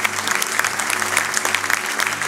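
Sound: church congregation applauding

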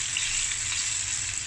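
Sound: pork ribs pan-frying in garlic oil on low heat

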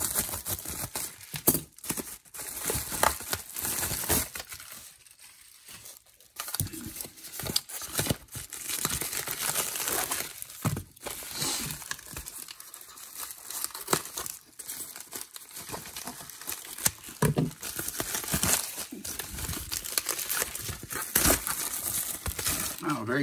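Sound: opening mail package packaging

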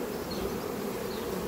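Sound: honeybees buzzing at the hive entrance

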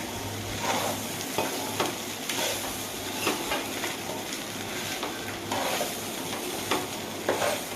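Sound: egg fried rice ingredients being stirred in a frying pan

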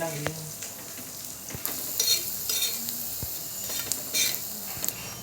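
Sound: onion and Byadgi chillies frying in oil

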